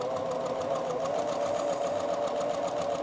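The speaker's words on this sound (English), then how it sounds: "I'm gonna start sewing next to that line" A sewing machine stitches quilt pieces for a flag quilt, a steady, fast mechanical whirring hum running unbroken and close throughout.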